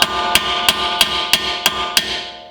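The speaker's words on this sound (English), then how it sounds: "I'm not hitting these studs too hard," A hammer gives light, evenly spaced metallic taps, about seven in a row, each ringing briefly, as it drives ARP extended wheel studs out of a car wheel hub.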